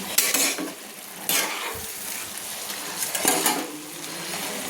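Spinach and prawns stirred and fried in a pan for a Bengali palong chingri dish, with a close sizzle and bursts of scraping and clattering from the spatula in three distinct rounds.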